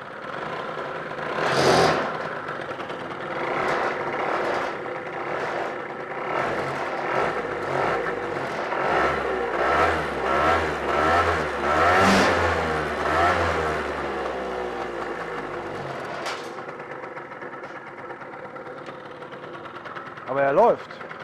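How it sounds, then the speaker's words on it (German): An engine idles unevenly at low revs, its rhythm stumbling and surging, with a voice talking over it at times. "Der Motor läuft sehr unrund jetzt hier in diesem niedrigen Drehzahlbereich."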